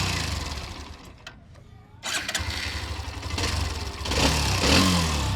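A Hero Xtreme 125R motorcycle's 125cc engine starts and revs, dipping briefly before picking up into a steady, louder idle and rising revs close by.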